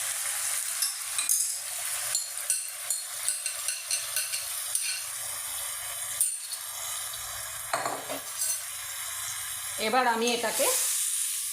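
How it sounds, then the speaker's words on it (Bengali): Marinated cauliflower, potato and peas fry in hot oil, a soft sizzle under a series of sharp scraping stirs of a utensil against the pan, while a voice speaks briefly partway through. "এবার পুরো ম্যারিনেটেড যে ফুলকপি, আলু, মটরশুঁটি সবটাই আমি এখানে তেলটাতে দিয়ে দিলাম।"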